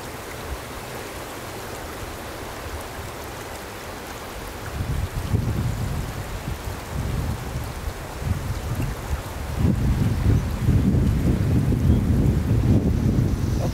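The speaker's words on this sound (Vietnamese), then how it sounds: "Gió rất là to nên là mọi người thông cảm," Strong wind buffets a drone's microphone over the Ban Gioc waterfall in Cao Bang, Vietnam, a loud continuous low rumble that gusts harder partway through and stays heavy to the end, alone without talk.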